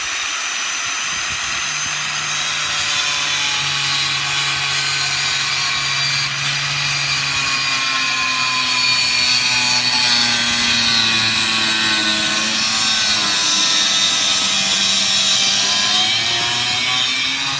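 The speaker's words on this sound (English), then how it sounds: "Now I am going to use an angle grinder on this." An angle grinder slices through the trunk plate of a 2016 Camaro, a loud continuous high-pitched whine and grinding rasp that holds steady throughout, with the motor pitch wavering slightly as the disc bites the metal.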